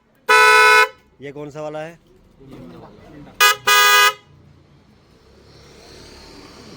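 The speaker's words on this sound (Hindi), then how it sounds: "इसके हॉर्न की बच गई है बैंड, तो उसका हॉर्न चेंज कराने आया हूँ" Replacement car horns are sounded on a Maruti Suzuki S-Presso, two loud close blasts with a second pair of short honks a few seconds later, while someone speaks between them.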